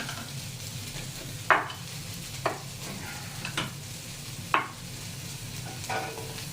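Butter and eggs fry in a pan after chorizo, giving a steady soft sizzle with a few sharp scraping stirs of a utensil against the pan, close and moderately quiet.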